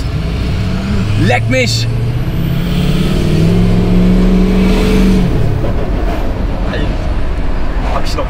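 A Ford Excursion's big diesel engine revs loudly up close with a deep, steady roar, and the pitch rises and falls across several seconds. A man exclaims over the engine noise.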